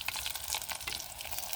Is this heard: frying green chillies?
yes